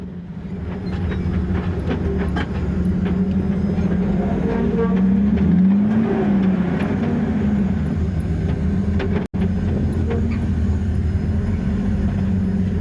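A vehicle's wheels spin while it climbs a canyon hill, giving a loud, continuous low drivetrain rumble with a rising and falling whine in the middle and a brief dropout near the end.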